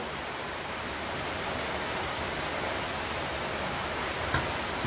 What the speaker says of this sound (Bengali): কেমন জোর বৃষ্টি হচ্ছে।